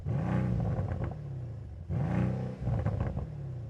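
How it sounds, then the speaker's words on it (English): A Mercedes-AMG C63 Coupe engine is revved twice, each burst climbing quickly and then cut off abruptly by a soft rev limiter before dropping back to a rumbling idle, close and loud with no voices. "Let's have a listen to the C63 Coupe."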